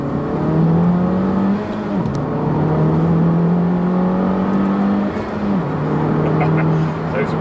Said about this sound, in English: Wastegate noises.